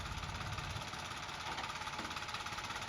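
A tractor engine runs steadily at idle with a low, rhythmic knocking throb while the hydraulic lift raises a trolley, close and unbroken with no talk.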